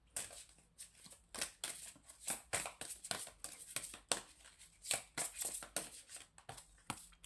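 Tarot cards riffled and shuffled by hand in a quick, close burst of papery flicks and snaps with brief pauses between runs, and no talking over it.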